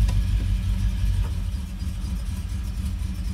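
Ford Ranchero V8 idling low and steady after being put in gear, a close, even rumble with slight fluctuation.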